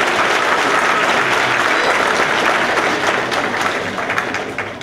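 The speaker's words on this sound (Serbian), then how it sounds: "I sad jedan aplauz za sve učestnike" Loud, dense audience applause at a folk ensemble's annual concert, sustained close and full for several seconds before easing slightly at the end.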